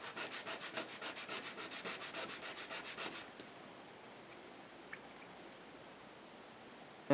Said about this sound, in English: And then finally just make it smooth with the fine sandpaper.